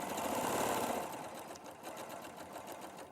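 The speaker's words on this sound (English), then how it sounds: "I'm going to carry on sewing" A sewing machine stitches fabric with a steady, close mechanical whir that runs louder for the first second, then continues at a slightly lower, even level.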